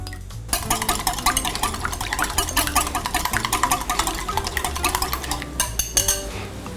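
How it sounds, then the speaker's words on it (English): An egg is beaten briskly in a bowl, a fast run of light rhythmic clinks from the utensil against the bowl that goes on for several seconds and stops near the end, with no voices. "I want to get this egg beaten"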